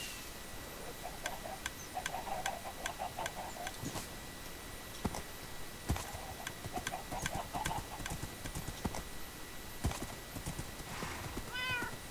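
Horse hooves clip-clop in a Minecraft game, a quick, steady series of sharp clicks at moderate volume that carries on for several seconds, with a faint neigh-like sound near the end.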